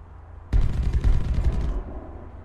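Aircraft guns firing from a P-38G-1 Lightning in a War Thunder simulator dive, a loud burst of rapid rattling shots that starts abruptly, runs about a second and a half and then fades into engine drone.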